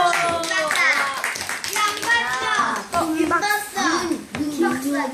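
Children in an art class clap briefly, the hand claps partly buried under lively children's chatter and an adult voice close by.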